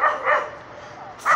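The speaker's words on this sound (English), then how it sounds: "Looks like dogs are trying to have some fun here." Dogs barking in a park by a river, three loud, close, rough barks in quick irregular succession with brief gaps between them.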